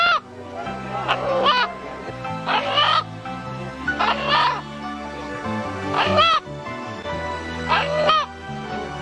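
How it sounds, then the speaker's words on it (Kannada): A rooster crows repeatedly in loud, close bursts, several raspy calls spread across the stretch, set against a backing of steady musical tones and voices. "ಜನರು ಹುಂಜ ಕೂಗುವ ರೀತಿ ಕಂಡು ಬೆಚ್ಚಿದರು."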